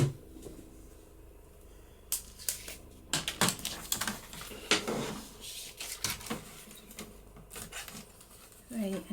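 Paper for a junk journal sliced with a cutter, a series of close, sharp crisp strokes and clacks in uneven bursts, with a voice speaking in between.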